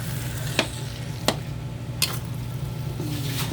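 A spoon stirs thick, sticky biko rice cake with panutsa in a pan. A few sharp scrapes stand out over a steady low sizzle and bubbling, close and moderately loud, with no talking.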